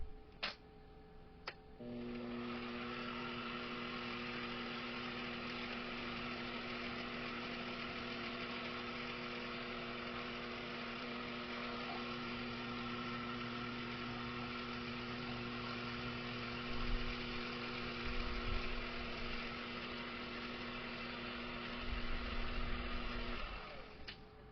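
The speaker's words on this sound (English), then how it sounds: "now I'm going to start milling down that wax to its final diameter" A mill cuts a wax ring blank down to diameter, a steady mechanical hum with a faint ticking that starts abruptly and runs unchanged until it stops near the end, with no talk.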